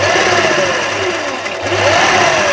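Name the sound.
sewing machine stitching a garara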